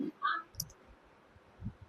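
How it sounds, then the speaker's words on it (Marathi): A couple of short, sharp computer mouse clicks sound during a computer tutorial, quiet and close over faint room noise. "कॅलेंडर ऑप्शनवर क्लिक करा."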